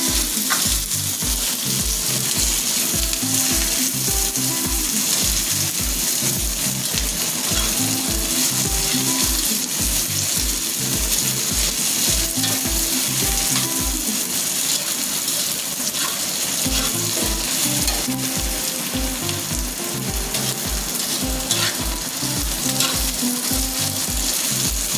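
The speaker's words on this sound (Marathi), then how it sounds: "तर ही लसूण बी आता मी त्यातच टाकून भाजून घेते." Garlic and onion fry in oil in a pan with a continuous loud sizzle, and stirring against the pan scrapes in a regular rhythm throughout. No one speaks.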